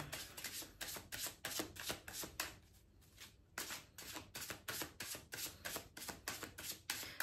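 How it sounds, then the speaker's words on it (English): Tarot cards are shuffled in quick rhythmic riffles, a rapid run of crisp flapping bursts with a brief pause midway, close and fairly quiet. "I call it chaos mode when I shuffle and the cards just like fly out."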